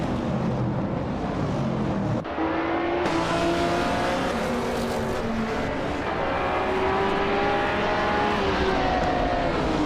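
A 1977 Lancia Stratos Turbo in a racing video game roars continuously at high revs, loud and close, with pitch rising through the gears and other cars droning underneath.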